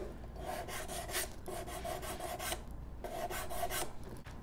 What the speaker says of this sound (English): take your file full, your nail file or your sanding paper, and you can even smooth out those edges